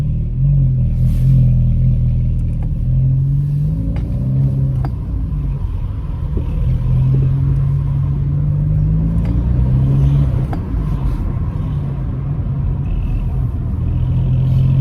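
A VW Scirocco 1.4 TSI engine with the rear exhaust box removed idles with a deep, rough rumble and a faint puffing tick from a small exhaust leak at a joint, steady and close throughout, no voices.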